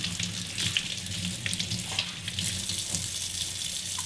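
Running tap water pours steadily over abalone intestine being washed in a sink, a continuous close splashing hiss with small bumps of handling throughout.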